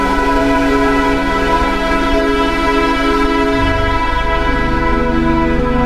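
A train rumbles across the historic railway bridge over the Brahmaputra river at Mymensingh, a loud continuous roar with a sustained horn blaring throughout, no voices.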